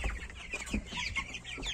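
Young Borkovska Barvista chickens cluck and chirp continuously, close by, a busy overlapping chatter of several birds with no talking.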